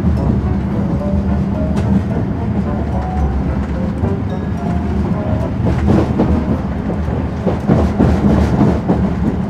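High-speed bullet train running in Uzbekistan, a loud, continuous rumbling roar with rattling and low humming that stays steady throughout, with no clear talk over it.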